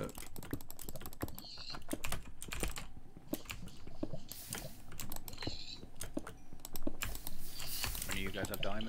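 Steady clacking of a computer keyboard being typed on, rapid and continuous, close up, with faint voices in the background.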